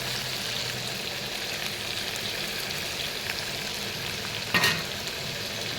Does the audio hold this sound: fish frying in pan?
yes